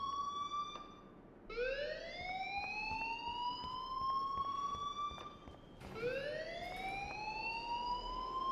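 A rising, wailing fire alarm in the video game Life is Strange, sweeping upward in two long cycles, loud and alone with no talking.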